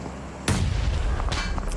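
A grenade goes off in PUBG Mobile at a world cup esports match: one loud, sudden blast after a quiet half second, with a heavy rumbling tail that lasts to the end, plus a second sharp burst near the close.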